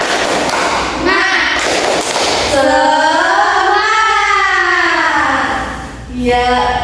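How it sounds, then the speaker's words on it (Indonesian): Schoolchildren in a classroom do a rhythmic spirit clap, with loud chanted voices rising and falling over dull thumping claps. "Ayo anak-anak bisa tepuk semangat"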